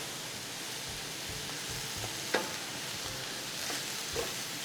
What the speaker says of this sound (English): Let me give it a quick stir.